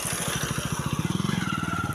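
A motorcycle engine putters with a rapid, regular pulsing beat that quickens and builds, close by at night outside an old palace, with no talk.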